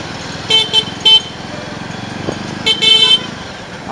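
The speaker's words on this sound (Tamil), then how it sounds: "ஆரன் அவ்வளோவா பவராக இல்லை, ஜஸ்ட் சிங்கிள் டோன் ஆரன் தான், இவ்வளோதான் அடிக்குது." Jawa 42 motorcycle single-tone horn, several short loud honks in two bursts over a low idling engine.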